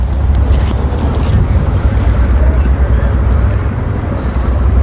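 A catamaran motors along on a small engine over open water, giving a steady low rumble mixed with wash and wind buffeting the microphone, continuous and fairly loud throughout.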